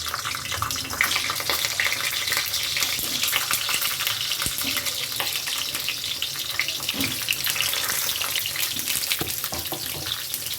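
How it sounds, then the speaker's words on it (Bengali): Pieces of pointed gourd (potol) fry in hot oil in a pan, a loud, continuous crackling sizzle with occasional clinks and stirring noises, no talking. "তেল গরম হয়ে গেছে, এবার পটলগুলো আমি ভেজে নেব।"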